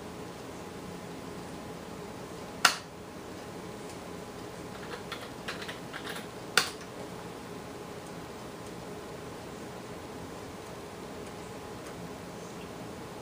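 Keys clack on an IBM PS/2 Model 25 computer keyboard, a couple of sharp isolated keystrokes and a brief cluster of lighter taps over a constant faint electronic hiss, with no talking.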